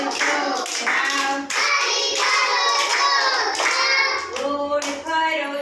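Anganwadi children clap their hands in rhythm, the claps mixed into a loud, continuous sung group chant that stays prominent across the whole stretch.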